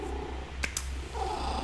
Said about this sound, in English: My cat is joining us.